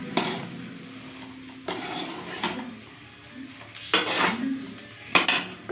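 A metal utensil scrapes and clanks against a pan as a cooked dish garnished with coriander is moved onto a plate, giving several sharp, separate clatters over quiet room noise.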